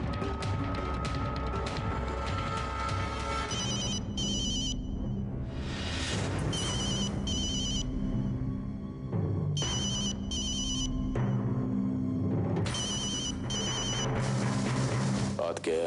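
A phone rings in repeated bursts of electronic tones, with pauses between rings, while people talk underneath.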